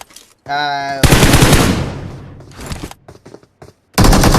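Loud, close bursts of automatic gunfire ring out in a battle royale video game match, with rapid rattling volleys breaking off briefly before resuming.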